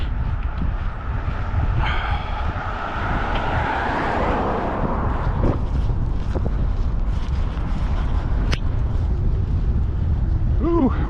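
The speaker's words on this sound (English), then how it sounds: "Ooh, windy." Strong wind buffets the microphone on an outdoor walk, a constant heavy rumbling roar with gusty swells and a few brief knocks and squeaks, and no voices.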